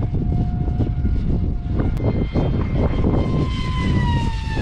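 A radio-controlled flying wing driven by a brushless car motor whines steadily through gusty wind, its pitch sliding up and down as it passes, loud and continuous with no voices.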